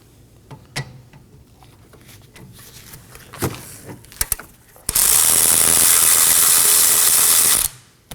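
A ratchet breaks loose the 14mm brake caliper slider pin bolts on a 2015-2023 Nissan Maxima, with scattered close metallic clicks and knocks, then a loud, dense burst of rapid ratcheting lasting about three seconds before stopping abruptly.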